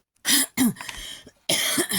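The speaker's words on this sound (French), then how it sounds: "Pardon, je vous reprends, je tousse." A few harsh, close coughs in quick succession, with a brief pause before the final pair.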